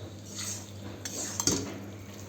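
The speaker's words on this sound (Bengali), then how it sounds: "এমনি মশলাটাকে কষাচ্ছি।" A spoon stirs and scrapes spice masala as it sautés in a pan, with soft clinks and a couple of sharper knocks of metal against the pan over a low, steady background hiss.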